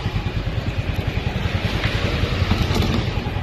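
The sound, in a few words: Yamaha Fazzio scooter engine running after alarm unlock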